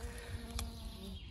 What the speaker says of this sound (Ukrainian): Бджоли мід збирають, жмелі гудя.